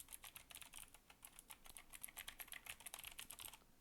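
Fingers type rapidly on a mechanical keyboard with clicky blue switches and lubed stabilizers, producing a dense, even patter of sharp clicks, close and fairly quiet, with no voice over it.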